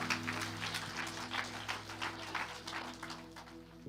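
A church congregation claps through a sermon, the applause fairly faint and steady beneath a sustained keyboard chord.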